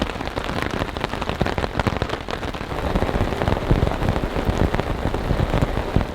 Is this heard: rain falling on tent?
yes